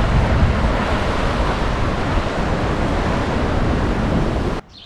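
Sea waves wash continuously onto a beach in Puglia, Italy, a steady loud roar of surf mixed with wind buffeting the microphone, ending abruptly near the close.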